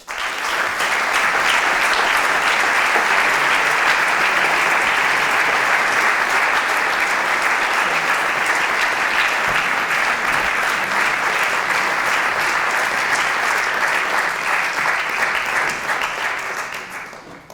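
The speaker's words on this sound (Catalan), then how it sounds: "rebre un fort aplaudiment al seu director, Lluís Carbó i Segrelles" Strong, sustained applause from a concert audience greeting the band's conductor, Lluís Carbó i Segrelles, with dense, even clapping that lasts throughout and tapers slightly at the end.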